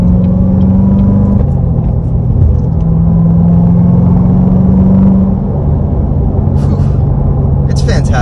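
A car cruising on the highway at about 60 mph, engine rumble and road noise loud and steady throughout, with a brief shift in tone partway through and some faint higher noises near the end.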